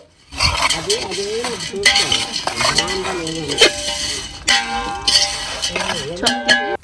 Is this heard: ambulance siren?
no